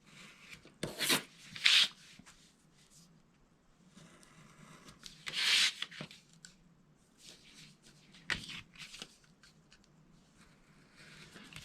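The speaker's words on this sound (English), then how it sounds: "I'm just cutting on the score mark in both directions." Corner squares are cut out along score marks for a handmade tear-top pouch. Several quiet, short rasping snips come in separate bursts, close by, with soft rustling handling noise in between.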